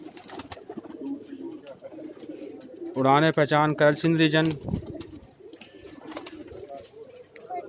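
Rampuri pigeons coo in a rooftop loft in Karachi's New Rizvia Society, their soft repeated burbling close and clear for a couple of seconds while someone talks before and after.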